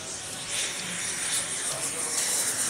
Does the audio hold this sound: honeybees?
no